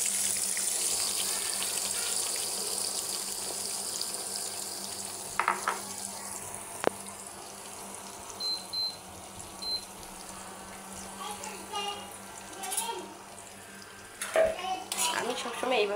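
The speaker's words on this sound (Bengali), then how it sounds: "এখন দিয়ে দিব মেখে রাখা আমার সেই কলিজার টুকরাগুলো। এখন আমি তেলে ছেড়ে দিব।" Marinated liver pieces fry in hot oil with a steady broadband sizzle, joined by occasional clinks of utensils against the pan and brief stirring scrapes, with no talking.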